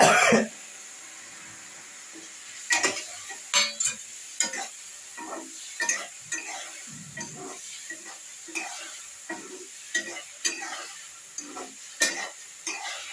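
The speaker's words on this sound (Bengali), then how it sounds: "এবারে আমি বেগুন গুলোকে এর মধ্যে দিয়ে দিই" Brinjal pieces for pickle stirred in a pan, giving a series of soft scraping clatters spread irregularly through the clip over a faint steady sizzle.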